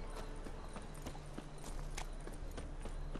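Horse hooves clip-clop in The Witcher 3: Wild Hunt, a steady rhythmic trot of crisp hoofbeats over a dense, continuous game soundscape.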